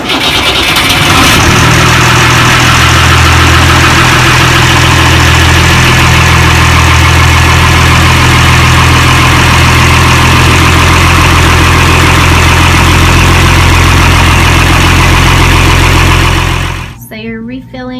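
A boat's main engine starts and then idles steadily to warm its oil, a loud continuous low rumble that runs alone for most of the clip before cutting off near the end.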